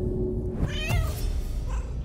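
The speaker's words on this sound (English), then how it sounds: "Oh, was that a meow?" A cat meows once in the Baldur's Gate 3 video game, a single drawn-out wavering cry over steady game ambience, fairly clear and without talk over it.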